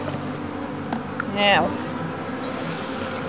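Honey bees buzz in a continuous drone at an open hive, with one close bee whining past loudly midway; a brief voice speaks once.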